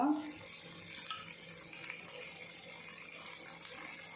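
Rava dosa batter frying in oil on a pan, a steady soft sizzle with faint crackle throughout, close and fairly quiet, with no voices.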